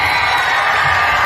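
An audience at a school Independence Day celebration claps and cheers loudly, a dense, sustained wash of applause and shouting children filling the whole moment.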